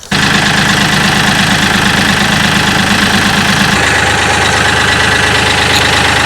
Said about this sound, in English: let me fire up the tractor, turn it around,